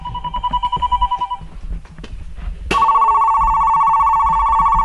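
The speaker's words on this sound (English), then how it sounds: "The phone's ringing again." A telephone rings loudly and steadily indoors, its bell tone starting partway through after a few shorter electronic chirps, then sustaining without a break.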